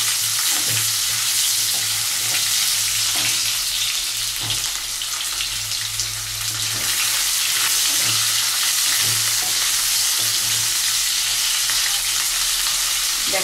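Onion sizzling and frying in hot oil with cloves, cinnamon, cardamom and black pepper for a chicken stew, a steady crackling hiss with stirring scrapes, close and continuous, no talk.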